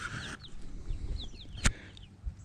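Chickens in a small outdoor chicken run make faint, scattered clucks and chirps over a low outdoor background, with one sharp knock partway through.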